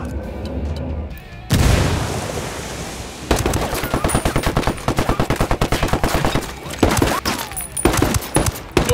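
A frag grenade goes off with a heavy boom during a Ghost Recon Wildlands firefight, followed by sustained rapid automatic gunfire in loud, dense bursts with sharp individual shots.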